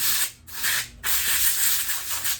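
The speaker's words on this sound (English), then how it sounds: "So you want to shoot the air in there." Compressed air blasts into a laptop cooling fan in two or three short, loud hissing bursts separated by brief gaps, close up with no talk.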